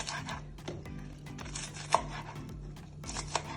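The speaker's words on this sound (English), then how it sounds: "I'm going to use my scallion. So I'm just going to give them some big chop like that" A knife chops scallions into big pieces on a board, a run of quiet, uneven thuds with a couple of sharper knocks, close by and soft.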